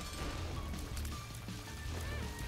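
Rain effect in modded The Binding of Isaac Repentance, a soft, steady patter of raindrops mixed with quiet game sounds and faint tones, low in level throughout.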